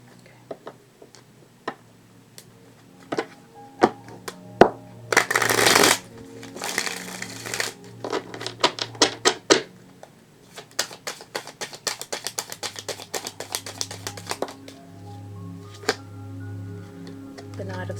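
Tarot cards are shuffled in a loud riffling burst, then flicked, tapped and laid out with rapid crisp snaps and clicks close by, over a low steady hum.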